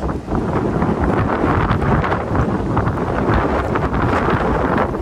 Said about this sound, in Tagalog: Delikado lang kasi ang hangin. Ang lakas.